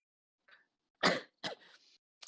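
A quiet throat-clearing rasp, then two close, sharp coughs in a short burst, with near silence around them.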